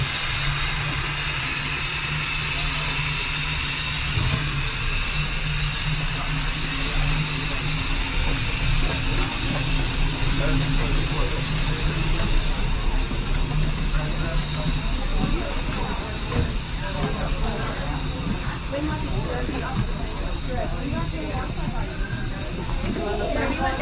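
A holiday steam train hisses with a loud, steady rush of steam while passengers board, a low rumble beneath it and people talking nearby throughout.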